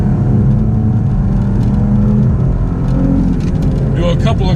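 2019 Maserati Quattroporte Granlusso S engine under acceleration, a steady loud low drone heard from inside the cabin, as someone speaks.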